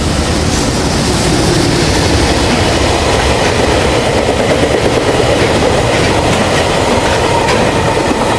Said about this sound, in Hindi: देखें 2 ट्रेनें